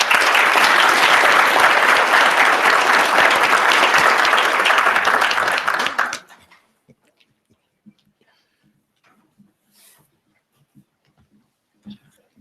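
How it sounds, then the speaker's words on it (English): Audience applause at a mid-year high school commencement ceremony honoring the salutatorian and valedictorian, a loud sustained burst of clapping for about six seconds that cuts off into near silence with faint scattered noises. "please join me in one more big round of applause for salutatorian and valedictorian"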